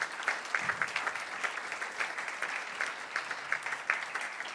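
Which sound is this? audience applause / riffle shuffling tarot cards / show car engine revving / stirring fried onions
audience applause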